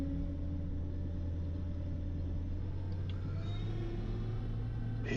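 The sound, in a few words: combine harvester engine throttling down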